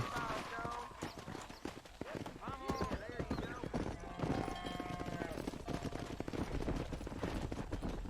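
Horse hooves clip-clopping at a run while herding cattle in Red Dead Redemption 2, a busy rhythmic trot heard up close under game music, an occasional whinny and someone talking throughout.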